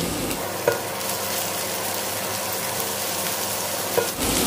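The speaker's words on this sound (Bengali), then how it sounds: "পেঁয়াজটাকে একটু লাল লাল করে ভেজে নেব" Chopped onion and tomato sizzle and fry steadily in a hot pan, with a couple of scraping stirs; no talking.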